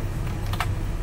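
Keys pressed on a computer keyboard to copy with Ctrl C, two quick soft clicks close together over a steady low hum, no voices.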